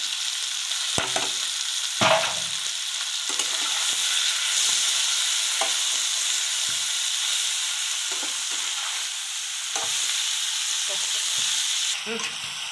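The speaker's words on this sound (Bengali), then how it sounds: "লবণ পেঁয়াজটা তার সাথে মিক্স করে এটাকে এবার আমি হলুদটা অ্যাড করলাম" Salt, onion and turmeric being stirred together in a frying pan: a continuous bright sizzle and hiss, broken by intermittent scrapes and taps of a spatula against the pan.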